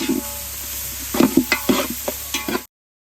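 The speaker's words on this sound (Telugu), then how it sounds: "వేసుకొని కలుపుతూ పచ్చివాసన పోయే వరకు మగ్గించుకోవాలి." Ginger garlic paste and onions sauté in a pan, with a soft steady sizzle broken by a series of sharp spoon scrapes and clinks as they are stirred, then an abrupt stop.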